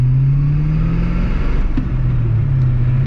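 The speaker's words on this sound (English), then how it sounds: "Love the sound of this car." A Holden VY SS Commodore V8 with 400,000 km revs while driving, a loud deep engine drone with rising and dipping pitch as the throttle changes, close and alone.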